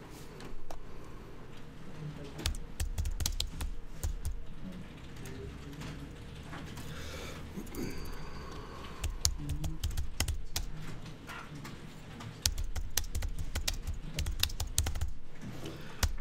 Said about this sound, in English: And you type any title you want.